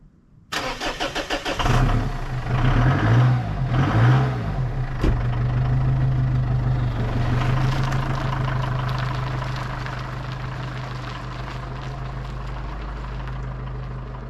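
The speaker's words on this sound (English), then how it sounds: "the starter motor turning the engine over, and then that sort of roar of the diesel engine" A starter motor cranks briefly, then a diesel car engine catches with a roar and settles into a steady, rumbling idle, close by.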